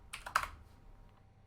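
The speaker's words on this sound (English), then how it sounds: "And all we're doing is typing numbers." Numbers are typed on a computer keyboard: a brief, quick cluster of a few crisp key clicks, fairly faint and close, fading into quiet room tone.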